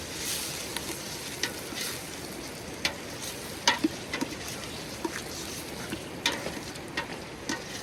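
Steak pieces fry in plenty of oil in a pot over an open fire on a frozen riverbank, a continuous sizzle broken by occasional scraping stirs and clinks.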